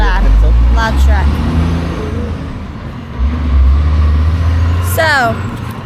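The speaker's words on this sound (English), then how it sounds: "Loud truck." A loud truck passing close by, its heavy low engine rumble swelling and fading across the whole stretch, with air-brake-like hisses and bursts of talk from a family eating outdoors over it.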